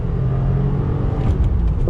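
A Subaru WRX Series Grey engine drones low and steady under load while driving, with a loud, close rumble that rises slightly near the end.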